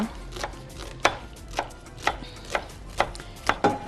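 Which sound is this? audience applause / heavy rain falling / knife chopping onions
knife chopping onions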